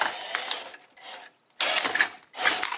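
Small RC Chevy Avalanche trail crawler with a 35-turn motor, whining and grinding through its gears in three close, loud bursts separated by short pauses.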